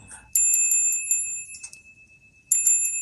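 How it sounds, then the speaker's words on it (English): Bell effect in an audiobook of Dickens' A Christmas Carol: bright metallic rings in two bursts, several quick strikes ringing on, then a pause before another cluster of peals, with faint low rumble beneath. "Soon it rang loudly, and in a minute, so did every other bell in the house"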